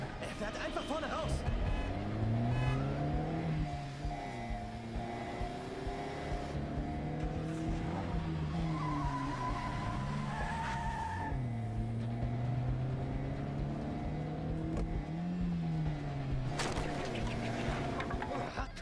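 A car races through the Quantum Break video game, its engine whining and rising and falling in pitch under a steady rumble, with tire noise throughout.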